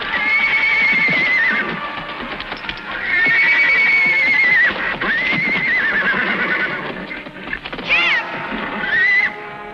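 A wild Mustang stallion whinnies and neighs in loud, repeated bursts over roughly ten seconds, each call rising and falling, with hoof clip-clop and scuffling beneath.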